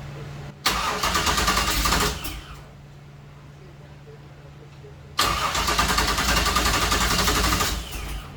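A 1966 Chevy Nova wagon with a 327 small-block V8, just bought at auction and not yet fuelled, cranks over loudly on the starter in two long bursts, with a quieter pause between them.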